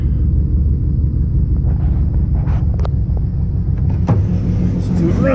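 A 1959 Cadillac engine idles after a cold start, a steady, close, heavy low rumble that continues throughout, with a few light clicks and a brief knock near the end.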